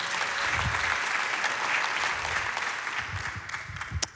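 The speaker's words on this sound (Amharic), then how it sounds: "አጨብጭቡ ለጌታ ክብር።" A church congregation claps together in sustained, steady applause, a dense mass of hand claps filling the room, with a few louder individual claps near the end and no clear talking.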